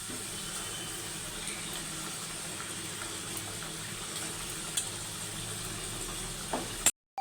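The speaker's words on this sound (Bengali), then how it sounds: "ঝোল ফুটে গেছে, মাছ ছেড়ে দেবো।" Katla fish curry gravy simmering in a pot, a low steady bubbling and burbling throughout with a couple of small clinks near the end, fairly faint and without talk.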